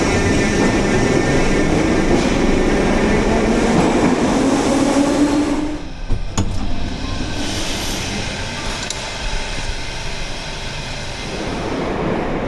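A metro train runs through Kosmonautų metro station in Uzbekistan with a loud, steady rumble and rail clatter that abruptly drops to a quieter hum with a few sharp clanks, then swells slightly again.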